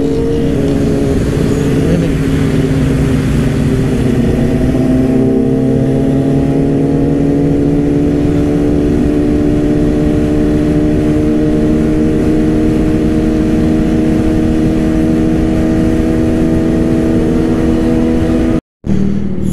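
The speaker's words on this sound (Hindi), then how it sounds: "तो राइड करते हैं स्टार्ट और आपको मिलते हैं ऑन द बाइक" A 650cc motorcycle rides steadily, its engine holding a loud, close drone with rising and falling harmonic sweeps as the rider shifts through gears, broken by one brief dropout near the end.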